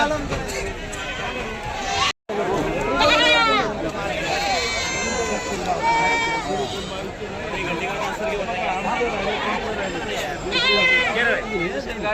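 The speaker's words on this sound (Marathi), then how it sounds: "बकरी बाजार आहे मित्रांनो" Goats bleating now and then amid the busy chatter of a crowded livestock market in Chakan, Pune, with people talking throughout.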